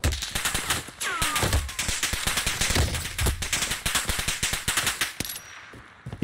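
Rapid automatic gunfire in the shooter Warzone, with dense, close, loud bursts of shots cracking steadily for several seconds before cutting off near the end.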